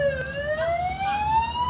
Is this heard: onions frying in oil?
no